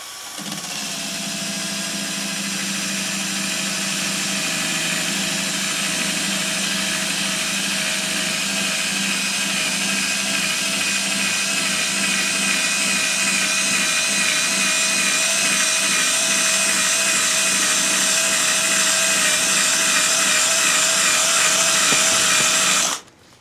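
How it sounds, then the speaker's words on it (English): A power drill fitted with a 3M adhesive eraser wheel grinds adhesive residue off a 1981 Chevrolet Silverado tailgate, a loud steady high-pitched whine that runs continuously for about twenty seconds and then cuts off abruptly. "So I've got my 3M adhesive wheel on the drill."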